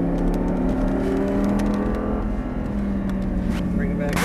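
An Audi R8 engine drones loudly and steadily at full throttle, heard from inside the car, with a continuous sustained roar and no pauses.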